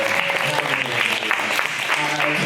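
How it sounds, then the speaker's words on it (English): A stand-up comedy crowd in Hong Kong applauds at the start of a live show, loud continuous clapping with some cheering voices mixed in. "Give a round of applause for yourselves."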